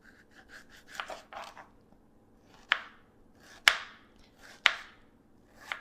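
A kitchen knife slices fresh strawberries on a cutting board, a series of soft irregular cuts followed by a few sharper, distinct knocks of the blade on the board, close and fairly quiet.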